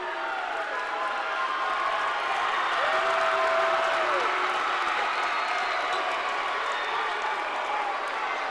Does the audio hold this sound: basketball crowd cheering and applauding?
yes